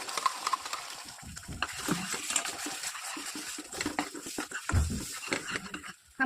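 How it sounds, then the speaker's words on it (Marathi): A masala with coriander powder, turmeric and ground paste is stirred and sautéed in a pan for paneer tikka masala, giving soft scraping and irregular wet sizzling up close, with no talking. "हा मसाला आपल्याला लो टू मीडियममध्ये परतवत राहायचा आहे, साधारण 5 ते 7 मिनिटं"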